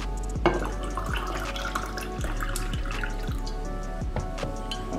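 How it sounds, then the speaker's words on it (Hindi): Water trickles and drips into a jar holding orange and mint leaves for infused detox water, a steady pouring splash with a run of distinct drops landing one after another, close and fairly quiet. "इसके अंदर हम डालेंगे पानी।"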